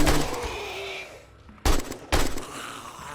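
AK rifle fire in the survival video game 7 Days To Die: two sharp, loud shots about half a second apart, each with a short ringing tail, following a stretch of busy in-game background noise.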